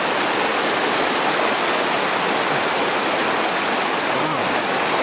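A small creek swollen by spring flooding in Kazabazua, Quebec rushes loudly and continuously, a dense, steady roar of water close at hand with no break.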